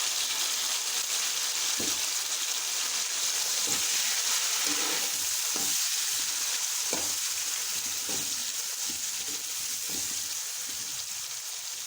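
Tomato, ginger-garlic paste and green chillies with cinnamon frying in hot oil, giving a steady bright sizzle throughout, with occasional soft scrapes and stirs from a spoon in the pan.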